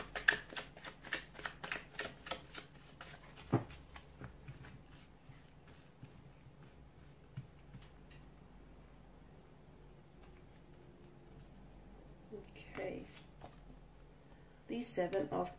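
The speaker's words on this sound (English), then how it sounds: "So we'll give the cards a shuffle" Tarot cards shuffled by hand in a quiet room, a quick run of soft riffling flicks at the start, then a long lull before a few more brief shuffles near the end.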